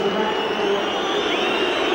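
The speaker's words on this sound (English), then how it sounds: "Just listen to the crowd." A football stadium crowd of 51,000 spectators makes a dense, continuous roar of massed voices that holds steady throughout.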